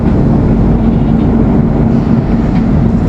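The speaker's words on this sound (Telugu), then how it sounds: "ఇప్పుడే ట్రైన్ బయలుదేరింది." Duronto Express 12286 train pulling out and running on the Delhi–Secunderabad line, a steady loud rumble with a low hum throughout, heard from inside the coach with no talk.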